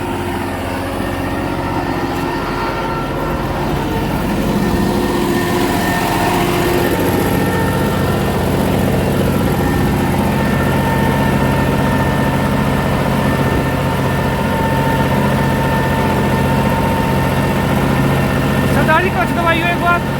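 A New Holland 5620 tractor engine chugs steadily in third low gear with a low, throbbing drone, running close by while a voice speaks over it.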